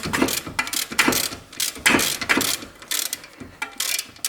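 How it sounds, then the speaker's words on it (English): A small wrench ratcheting as it loosens a bolt on a Toyota Corolla's suspension, a rapid series of close, crisp clicking strokes with short pauses between them. "this my small wrench, and I can open this bolt in this way"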